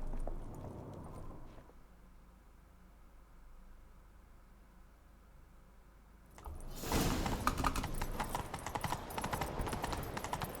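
Horse hooves in The Witcher 3: Wild Hunt, starting with a short muffled clatter, then after a quiet stretch a loud, close galloping run with rapid, busy hoofbeats that keeps going to the end.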